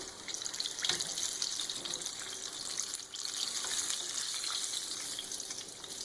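Chicken wings for maple bourbon wings frying in hot oil, a soft, steady hiss and bubble heard at low level, with no one talking.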